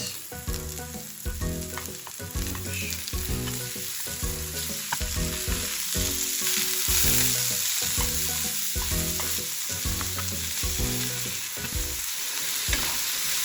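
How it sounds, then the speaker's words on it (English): Steady, loud sizzling of pork frying in sesame oil, with rhythmic scraping and stirring thuds against the pan. "And then I'm going to start frying the meat."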